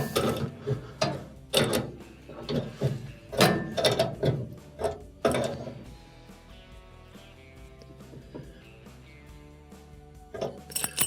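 A wrench tightens a threaded fitting on a gas pressure regulator during a range oven repair, giving close, loud clicking and ratcheting bursts that give way to a quieter stretch and a final few clicks.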